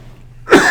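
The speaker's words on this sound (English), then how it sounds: "I have to cough." A single sharp cough bursts out close to the microphone after a brief quiet moment, loud and abrupt.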